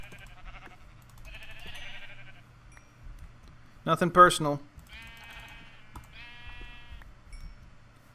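Sheep bleat in the Minecraft video game with several short bleats around a louder burst of hit sounds, while a person talks over parts of it.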